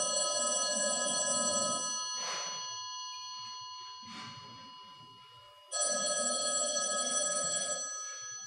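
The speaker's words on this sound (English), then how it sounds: "Every day, a phone rings somewhere in this country." A telephone rings with a bright electronic bell tone in two long bursts separated by a pause, with a softer ringing tone in between, heard alone in a quiet room.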